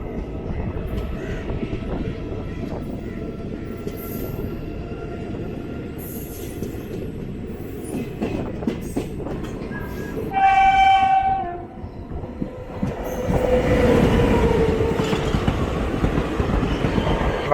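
The Pune–Ernakulam Express rumbles past on the adjacent track with a steady rolling clatter and sounds a loud horn midway. The roar then swells again as carriages keep passing, heard from on board the Alappuzha–Kannur Executive Express.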